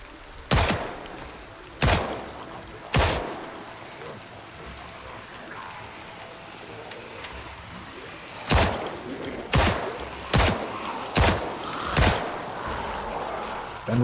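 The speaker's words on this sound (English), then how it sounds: "Three more shots, then reload." Sharp gunshots from the zombie survival game Project Zomboid: three spaced shots early on, then a quicker run of five or six after a pause, each a hard crack over a steady background hiss, with no talking.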